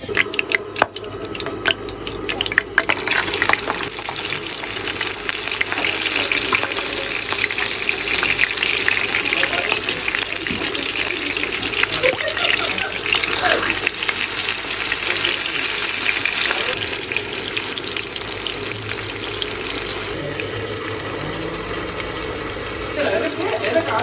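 Fish roe frying in hot oil in a pan gives a loud, dense, continuous sizzle heard close up, with steady bubbling hiss throughout and faint background voices.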